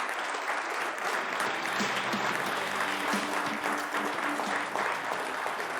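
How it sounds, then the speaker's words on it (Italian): An audience at an Italian sports broadcast breaks into sustained applause, a dense, even clapping that holds steady and loud from start to finish, with a faint voice briefly under it. "Facciamo un bel applauso a Gigi"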